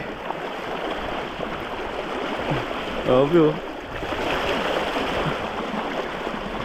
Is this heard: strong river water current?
yes